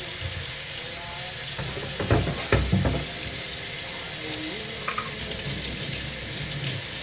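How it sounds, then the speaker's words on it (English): Tap water runs and splashes in a home kitchen during a live meal prep of fish and shrimp pan fajitas, a steady hiss of flow with a few sharper splashes and clatters near the middle. "I'm getting water everywhere."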